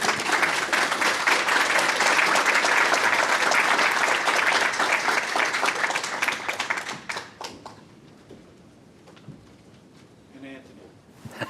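An audience at a leadership fireside chat breaks into loud, sustained applause that welcomes a speaker to the stage, then thins out into scattered claps after about seven seconds, with a voice beginning to speak near the end.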